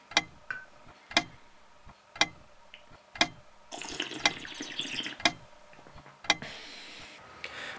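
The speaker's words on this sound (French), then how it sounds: "avec un bruit d'horloge qui fait tic-tac comme fond sonore" Sharp, evenly spaced tick-tock clock beats about once a second, used as a background sound effect, mixed with running water and splashy noise from a tap or sink in the second half.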